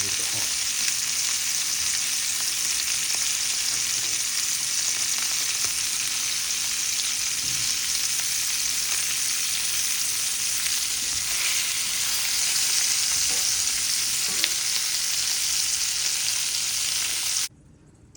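Lamb chops pan frying in a cast iron pan make a loud, steady, hissing sizzle that holds evenly throughout and then cuts off abruptly at the very end.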